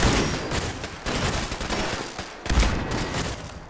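Gunfire in the Fallout 4 video game's Nuka-World expansion, a dense continuous fusillade of overlapping shots with a louder burst near the end and no talk.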